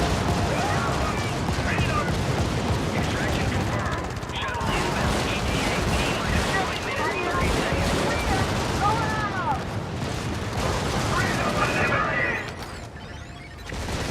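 Bursts of gunfire and explosions crackle through a dense, chaotic firefight in a co-op shooter during an extraction push, with recoilless and rail gun weapons in play, loud and continuous, while voices talk and call out over it.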